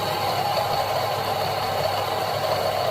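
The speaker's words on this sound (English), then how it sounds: "I'm going to grind the coffee" A T64 grinder with 64mm flat burrs grinds coffee in a steady, dense whir that holds constant and loud for the whole stretch, with a low rumbling undertone.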